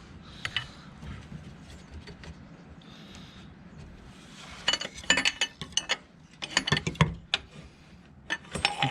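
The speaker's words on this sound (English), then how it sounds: "I want to just attach a spanner to here and here and lock those off" Metal spanners clink and ratchet while locking off nuts on a Classic Mini clutch adjuster, with irregular close clicks and taps growing busier toward the end, no talk.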